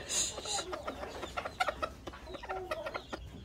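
A domestic hen clucking in short repeated bursts close by, with soft rustling in between and a muffled voice briefly underneath.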